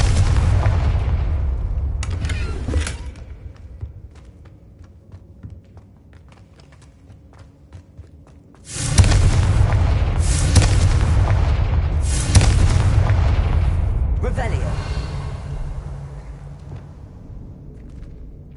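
Confringo spell explosions in Hogwarts Legacy: a booming blast near the start, a quiet lull, then a heavy explosion followed by further rumbling blasts that fade out.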